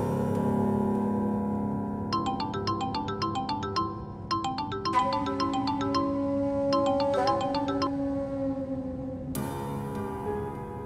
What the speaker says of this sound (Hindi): उठा लो, उसी का होगा फोन,